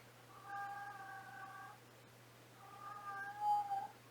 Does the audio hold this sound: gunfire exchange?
no